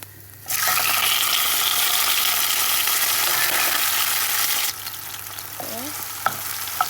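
Tomatoes tipped into hot oil with curry leaves and fenugreek for a Jaffna-style brinjal curry, setting off a sudden loud, close sizzle that holds steady for several seconds, then eases to a softer crackle with a few light clinks.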